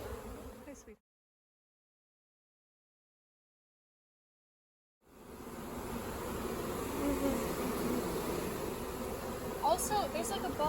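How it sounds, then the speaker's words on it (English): A swarm of honey bees lifts into the air after the branch holding them is shaken, a dense steady drone swelling after a brief silent gap and continuing at moderate distance under outdoor ambience. "many bees took to the air."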